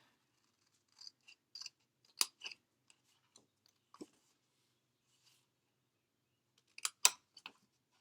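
Scissors snip card stock in sparse, crisp cuts close by. Scattered single clips and short pairs are separated by quiet gaps, with no talking.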